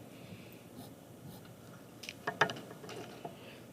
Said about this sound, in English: I will write down sine law.